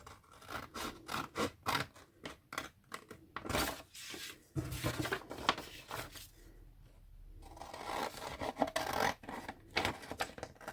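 Scissors cutting paper to make a zine, a close series of quick rasping snips and scratchy paper rustles in uneven bursts, with a short quieter pause midway.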